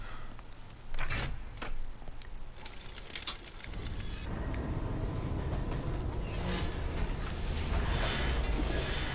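Train rolling along in the video game Let It Die before a boss fight, a steady broad rumble and clatter that swells after a few seconds with scattered metallic knocks early on, no voices.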